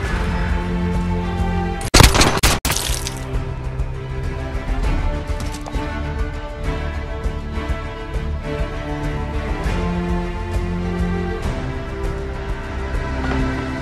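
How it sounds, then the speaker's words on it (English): Gunfire sounds in Call of Duty: Warzone combat training. A short, loud burst of shots hits early, then steady in-game music and ambience carry on without speech. "Gunfire."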